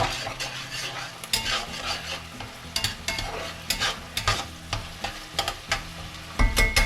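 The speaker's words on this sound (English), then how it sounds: "The onions are getting cooked. Turn it up a notch, a little bit harder." Onions frying in a pan for fried rice, a steady sizzle with repeated scraping and clinking of a utensil stirring against the metal, close and clear with no talking.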